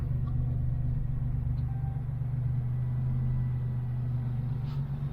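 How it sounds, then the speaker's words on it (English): Typhoon engine idling smoothly on its first start in over ten years, a steady low rumble heard nearby with no talk over it. "It's idling smooth"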